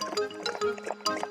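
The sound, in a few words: water poured into a bowl in a cartoon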